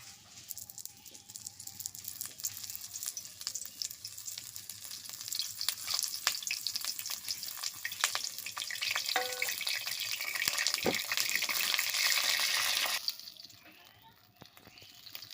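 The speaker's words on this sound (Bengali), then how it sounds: "এবার আমি পটলগুলো হালকা করে ভেজে নেব তেলের মধ্যে দিয়ে" Stuffed pointed gourds (potol) frying in hot oil for potol dorma, a steady crackling sizzle that builds and holds loud for most of the clip, with occasional rattles of stirring, before fading down near the end.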